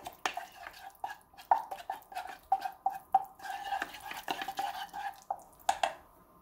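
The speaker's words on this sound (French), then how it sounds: "Donc il faut bien mélanger." A homemade hair mask mixture is stirred in a small bowl, giving soft, repeated wet clicks and scrapes in an irregular rhythm, close and fairly quiet.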